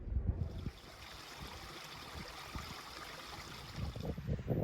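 A brook at White Clough runs in a soft, steady outdoor rush of trickling water, with no voices over it.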